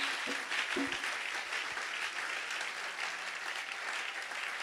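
A church congregation applauding the Lord at a French-speaking service, a dense, steady wash of many hands clapping throughout, with a few louder nearby claps standing out.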